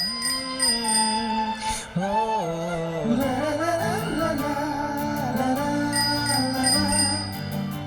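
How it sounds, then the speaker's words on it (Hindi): A bicycle bell rings repeatedly and loudly over a steady musical background, with bright metallic tones sounding through the whole stretch and no talking. "मतलब कि साइकिल की घंटी चेक कर रही हूँ।"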